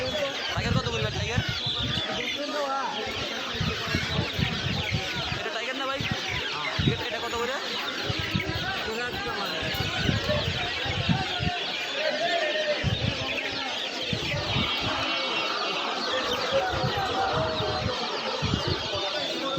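Chickens clucking at a large open-air livestock market selling pigeons, ducks, hens and goats, scattered clucks and bird calls under a dense crowd of voices and market chatter throughout.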